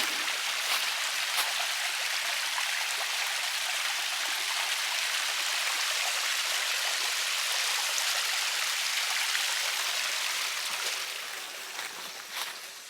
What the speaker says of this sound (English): And here's the waterfall.